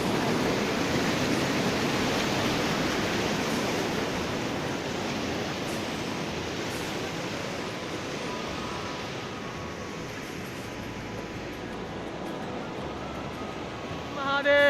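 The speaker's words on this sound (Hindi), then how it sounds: "ये ठंडा बर्फ़ का पानी कुल्फ़ी जमा देने वाला" Cold glacial meltwater river rushing at Gaumukh near Gangotri, a steady broadband roar of turbulent water that stays loud and continuous throughout, easing slightly toward the end.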